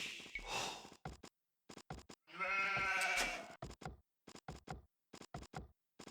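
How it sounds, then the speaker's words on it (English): A sheep in Age of Empires 2 bleats once in a long, wavering cry, surrounded by repeated short clicks and knocks from game interface sounds at low to moderate volume. "Found a sheep on his own."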